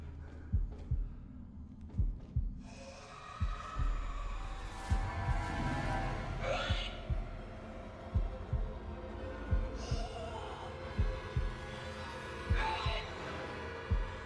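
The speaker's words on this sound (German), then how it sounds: "Bestimmt Herzschlag, oder?" A slow, dull heartbeat thumps in Man of Medan, paired beats recurring every couple of seconds over a dark ambient hum, with occasional breathy rustles and swells layered on top.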